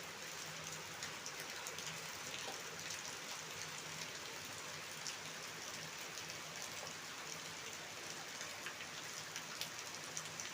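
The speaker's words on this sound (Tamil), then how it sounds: "சரியான மழை" Heavy rain pours steadily in a forest near a waterfall on a hillside, a dense, constant hiss of drops striking leaves and ground with no break and no voices.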